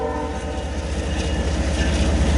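A loud eastbound freight train rumbling past close by during a winter storm, heavy low roar with a sustained horn tone layered over the rolling wheels.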